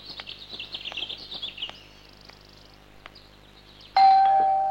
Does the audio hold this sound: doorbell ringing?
yes